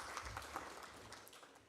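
Applause from an audience at a university symposium on national transformation, a steady wash of clapping held at moderate level throughout.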